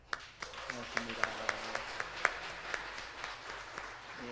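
A church congregation applauds a deacon during a Sunday service: a scattered, moderately distant round of clapping with distinct sharp claps over a soft background murmur.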